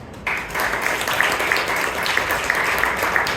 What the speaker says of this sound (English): give a very thunderous round of applause to Toastmaster Suraj